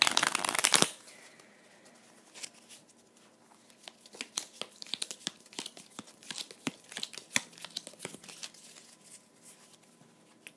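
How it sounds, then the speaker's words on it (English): A deck of Onirim game cards being shuffled up close: a sharp riffle burst, then a long run of soft, irregular flicks and shuffling taps. "Shuffle the deck back up and draw back up."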